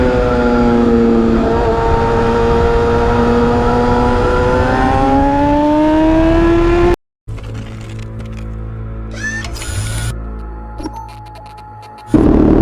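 A Kawasaki ZX-6R sport motorcycle engine revs hard and close, its whining pitch climbing steadily, then cuts off abruptly and gives way to quieter mixed background noise.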